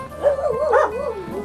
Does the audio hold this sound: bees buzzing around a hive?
no